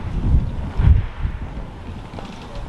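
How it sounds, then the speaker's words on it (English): Wind gusting outdoors by the sea while ragworm are being salted for fishing, with low rumbling buffets against the microphone that peak twice early on, then settle into a steady, softer blustery background. "there is a bit of a wind"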